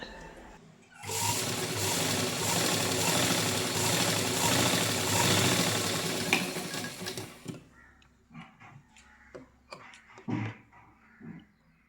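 A sewing machine runs continuously for several seconds while stitching along a sleeve edge, a loud, steady, close whirr that then stops, followed by scattered handling taps and fabric rustles.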